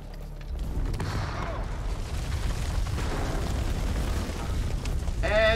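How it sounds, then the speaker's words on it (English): A grenade blows up in the horror video game House of Ashes, a deep rumbling boom that swells and lingers under game sound effects, with a sharper crackle near the end. "Grenade!"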